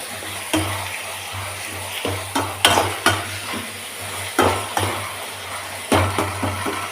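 Tomatoes fry in oil in a pan, with a steady low sizzle under repeated sharp clinks and scrapes of stirring, close and fairly loud.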